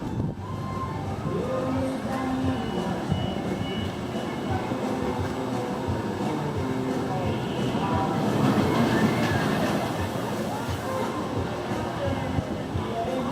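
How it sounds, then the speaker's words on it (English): Steel roller coaster ride on Iron Rattler at Six Flags Fiesta Texas, with a steady loud rumble and rattle of the train on track throughout, swelling near the middle, with faint rider voices mixed in. "So that was lifetime coaster ride number 100 on Iron Rattler"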